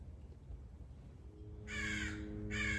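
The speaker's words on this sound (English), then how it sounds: "You're probably going to have some crow noise in the background" Two loud crow caws ring out outdoors near the end, the second close behind the first, over a steady low background rumble.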